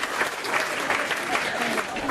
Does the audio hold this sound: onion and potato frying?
no